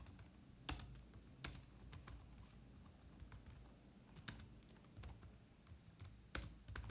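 Quiet, close typing on a computer keyboard, irregular clusters of soft key taps with a few sharper clacks, steady for several seconds with no voices.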